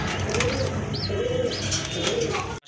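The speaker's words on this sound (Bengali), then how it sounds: "বাম পাশের এটা হচ্ছে মাদি কবুতর, ডান পাশেরটা কিন্তু নর কবুতর" A mated pair of pigeons, a female and a male, coo softly in a loft with steady low, warbling calls over a busy background hum, alongside faint chirps and a brief flutter.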